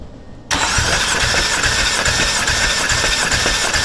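A BMW M4 engine cranks over steadily during a cylinder compression test, a loud, close, rhythmic starter churn that begins abruptly after a moment of low background and continues without firing.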